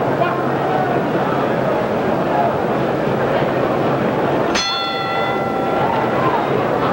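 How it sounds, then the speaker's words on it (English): A single boxing ring bell at the 1965 Ali versus Liston heavyweight rematch rings out once with a sharp metallic clang and a ringing tail, heard over an arena crowd murmur and a commentator's voice. "We're 15 seconds from the bell."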